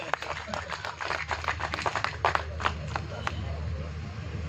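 Applause from the audience at a poetry event in Islamabad, a steady patter of claps, moderately loud and fairly close, fading slightly toward the end.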